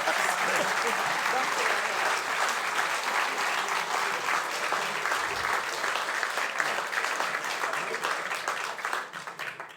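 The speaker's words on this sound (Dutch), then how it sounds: "Dat is toch werkelijk een heel groot applaus voor zo'n mens." Theatre audience at the closing of a Dutch revue applauds in a dense, sustained wash of clapping that holds steady throughout and tapers slightly at the end.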